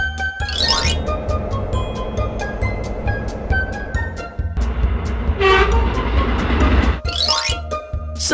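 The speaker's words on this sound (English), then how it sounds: "Subway train." A subway train runs close by with a continuous loud rumble and rhythmic clacking, punctuated by sharp rising squeals and a brief horn-like tone midway.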